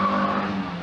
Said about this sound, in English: Handbrake turn, beautifully done.